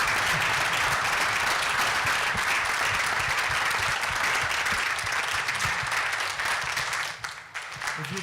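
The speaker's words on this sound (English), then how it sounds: "Can we give them another round of applause?" Sustained, even applause from a church audience follows a music performance, filling the room at a constant level before dropping off abruptly near the end.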